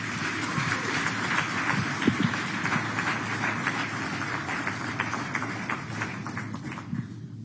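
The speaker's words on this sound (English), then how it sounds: "can we have a big round of applause?" A large crowd applauding steadily at a business summit in India, dense clapping that holds for several seconds before tapering off at the end.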